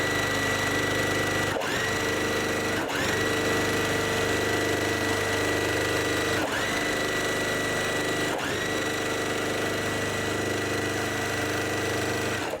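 A sewing machine stitching quilt block pieces runs steadily and fairly near, a constant mechanical whir with a few short stops and restarts, no talking.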